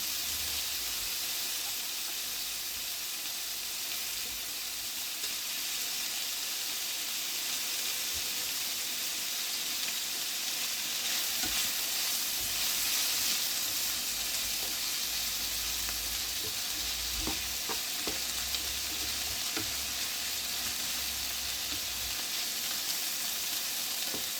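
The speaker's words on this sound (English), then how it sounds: "So we're going to brown the onions, or soften them a bit more." Onions cook in fat in a pan for mince stew, a soft continuous sizzle at moderate distance with occasional light clicks and stirring, no voices.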